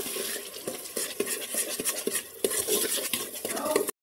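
A spoon scrapes and clinks rhythmically against a metal pot, stirring a thick spice mixture with pink salt for rajma for several seconds before stopping abruptly.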